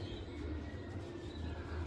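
Racing pigeons coo softly and low over steady background noise, faint and continuous throughout.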